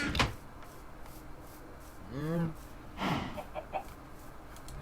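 Minecraft chickens in a modded expert-mode world: a couple of short clucks and a rising, warbling chicken call, with sharp game clicks and thumps around them, close and moderately loud, no speech.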